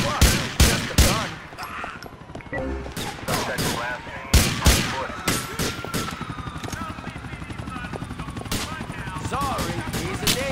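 Gunfire from the video game GTA IV: sharp shots and rapid bursts crack loudly in clusters over a steady background whir, with quieter stretches between volleys.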